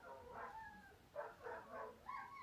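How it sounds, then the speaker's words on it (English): A pet dog howling indoors, a short series of faint, wavering vocal cries rising and falling in pitch, heard from across the room with no talking. "And my dog is singing to me."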